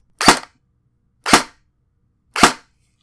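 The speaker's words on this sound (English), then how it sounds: "So I'm going to plug this in and fire a couple times." An electric airsoft gun powered by an 11.1 volt Li-ion battery fires three sharp single shots, evenly spaced about a second apart, close and loud against a quiet background.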